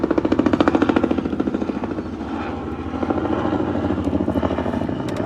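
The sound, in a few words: orange helicopter flying overhead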